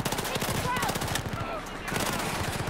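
Rapid automatic fire from the player's rifle in Battlefield 4, a dense run of loud evenly spaced shots that pauses briefly and then resumes at the same rate.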